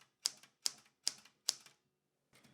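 A 1981 Smith-Corona Deville Deluxe typewriter strikes four crisp, evenly spaced keystrokes up close, each a sharp metallic clack with a short rattle, followed by a pause and a softer mechanical shuffle.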